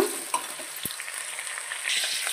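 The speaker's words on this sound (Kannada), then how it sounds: "ಸಣ್ಣಕ್ಕೆ ಹೆಚ್ಚಿರುವಂತಹ ಈರುಳ್ಳಿ, ಕೆಂಪಗಾಗೋವರೆಗೂ ಫ್ರೈ ಮಾಡ್ಕೊಳ್ಳೋಣ" Finely chopped onions with curry leaves frying in a pan for vegetable rice bath, a close, even sizzle with a few soft knocks and scrapes of stirring, growing slightly louder near the end.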